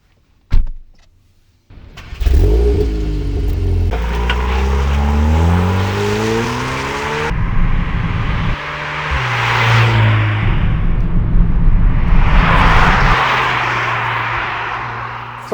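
Volkswagen Golf R Mk8 fitted with a Milltek exhaust, loud and close: a sharp start-up flare, then engine revving and accelerating through rising gear sweeps, with louder exhaust bursts and roaring pulls that drop back between shifts.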